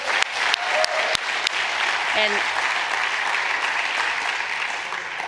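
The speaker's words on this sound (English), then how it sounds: "Round of applause for our sponsors for helping to make tonight possible." An audience at a charity fundraising evening applauds sponsors, steady clapping filling the room for several seconds with scattered louder claps near the start.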